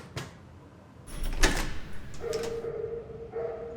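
Heavy thuds and bangs on a locked door, a few loud impacts in quick succession with rattling, followed by a steady whining tone, close and forceful.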